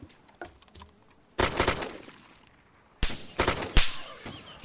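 Gunfire in the survival video game DayZ Epoch: a few faint shots, then two loud bursts of rapid automatic fire separated by a short lull, close and sharp.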